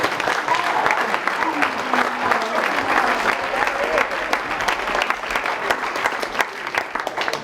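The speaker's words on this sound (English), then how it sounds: "So nice round of applause for all of us." Sustained applause from a banquet audience honouring the football coaches at a school fall sports banquet, a dense steady wash of many hands clapping at an even level for several seconds.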